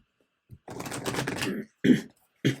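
Someone clears their throat with a rough, rasping sound close up, followed by two short guttural coughs.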